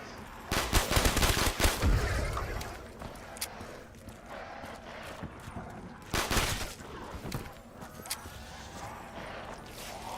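Gunfire in the zombie game Call of Duty Mob of the Dead, with bursts of loud shots clustered early and again midway, mixed with other game noise in between.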